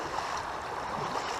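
Water rushing steadily over a small, partly collapsed dam in an urban creek, a continuous broadband splashing roar close by with no talking.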